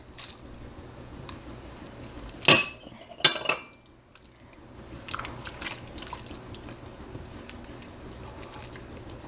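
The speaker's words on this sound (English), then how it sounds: "We can add our pre-cooked beans." Pre-cooked beans tumble into a pot of vegetable soup with potatoes, giving two quick wet squishing plops and a clink of utensil, then a soft low simmering bustle.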